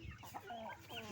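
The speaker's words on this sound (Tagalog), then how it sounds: "Pag gusto magluto, maraming manok. Nagkalat-kalat ang mga manok." Chickens clucking nearby in a short burst of overlapping calls, steady and moderately loud with farmyard background in the countryside.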